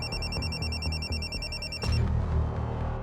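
A telephone rings with a repeating electronic trill at steady volume, cutting off partway through, in a police crime drama scene.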